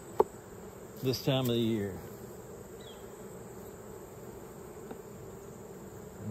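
Honeybees hum steadily in an open, strong hive, a low, constant buzz close by under a man's brief remark.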